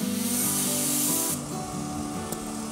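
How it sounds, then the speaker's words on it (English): An airbrush sprays paint, red and green, onto a turned wooden piece during a woodturning project. A steady, loud hiss runs throughout, dropping to a softer spray partway through. "think about the paint coming out of your airbrush in a fan shape"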